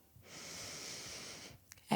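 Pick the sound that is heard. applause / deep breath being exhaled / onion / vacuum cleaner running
deep breath being exhaled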